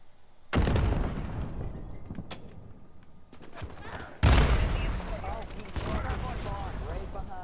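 Rapid gunfire and heavy blasts sound loud and close in Call of Duty Modern Warfare, with two sharp onsets followed by sustained rumbling fire. Someone talks over the action.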